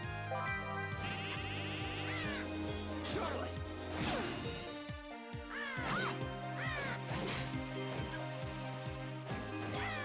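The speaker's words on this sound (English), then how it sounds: "regular casting is 2 crows" A crow-summoning spell from Castlevania: Portrait of Ruin sounds as a dense run of game effects, repeated cawing swoops and impact crashes layered over looping chiptune-style music, loud and busy throughout.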